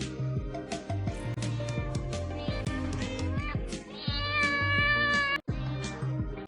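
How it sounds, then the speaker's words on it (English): A cat meows several times in a row, loud and close, the calls drawn-out and tonal, some rising into a longer wail. "This is a cat."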